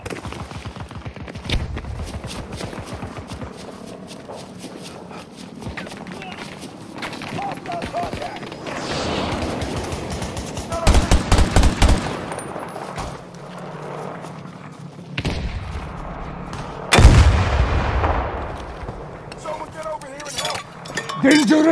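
Gunfire and a grenade explosion in the military shooter game Battlefield 2042 during Conquest mode with an M416 rifle, dense bursts of shots with two loud broadband blasts standing out over continuous battle noise and in-game voice callouts.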